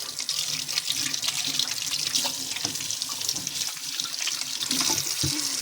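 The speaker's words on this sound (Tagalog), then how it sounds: "Wait lang, hugas lang ako kamay." Hands being rinsed under a running kitchen tap, a steady broadband splash of water into a sink that holds continuously at close range with small drips, and a brief clunk near the end.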